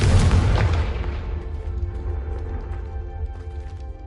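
A Confringo blast spell explodes in Hogwarts Legacy on PS5: one loud, close boom that rumbles at the start and then fades into a long, low decaying roar.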